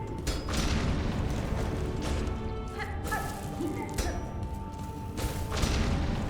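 Explosions in the video game Silksong, a run of booming thuds and crashes echoing through a loud, echoey underground area, repeating irregularly over a dense layer of game noise.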